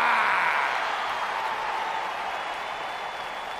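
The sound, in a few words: arena crowd applause in WWE 2K20 video game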